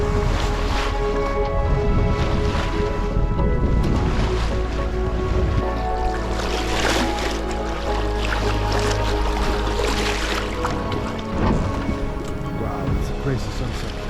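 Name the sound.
sailboat sailing on the North Sea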